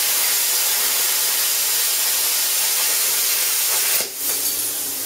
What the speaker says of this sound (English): same cut, same power settings on the plasma cutter, but back with compressed air